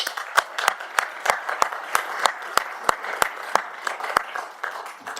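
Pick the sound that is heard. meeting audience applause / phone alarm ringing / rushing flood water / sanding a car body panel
meeting audience applause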